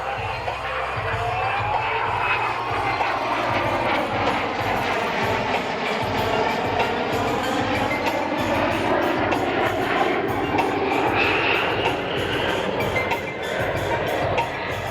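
A Lockheed Martin F-35B fighter jet roars loudly and continuously through a hovering demonstration flight at the Iwakuni air show, the engine and lift-fan noise steady and close, with a faint crowd murmur underneath.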